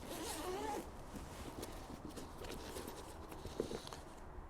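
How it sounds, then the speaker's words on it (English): Zip on the underside of an expandable SW-Motech Pro motorcycle tank bag pulled open in one long steady rasp, close and fairly loud, followed by soft fabric handling and faint rustles. "you'll notice there's a zip on the bottom here"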